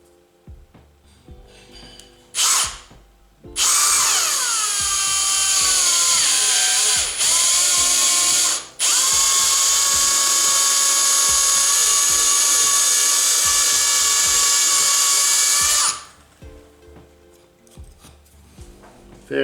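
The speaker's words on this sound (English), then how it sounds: "now I'm actually going to drill these out a little bit. Just do it really, really slowly" A power drill slowly bores 5mm holes, whining loud and close in long sustained runs with its pitch sagging and recovering, broken by a couple of brief pauses before the drill stops near the end.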